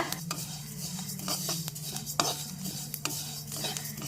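White sesame seeds stir-roasted in a pan over medium flame, a continuous dry crackling sizzle with repeated metal spoon scrapes and clinks against the pan, close up and steady, without talk.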